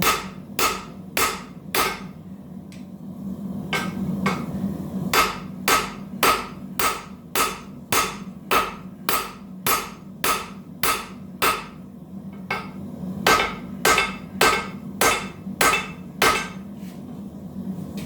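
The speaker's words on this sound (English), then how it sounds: "this thin taper and trying to pound that down into my hardy hole" Hammer blows on a thin taper being driven into an anvil hardy hole: steady, evenly spaced, sharp metallic strikes repeating for the whole stretch, close and loud, with a couple of short pauses and a low hum beneath.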